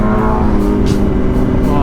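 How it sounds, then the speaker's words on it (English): A motorcycle engine runs at a steady, close drone with a rich, buzzing tone that holds evenly throughout. "I love the sound of that bike"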